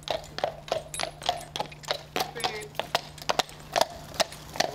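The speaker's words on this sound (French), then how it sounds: "Un cheval de trait qui peut supporter de lourdes charges." A draft horse pulling a cart for Christmas tree collection near Paris clip-clops along at a steady walking pace, sharp hoof strikes ringing out one after another over a constant low hum.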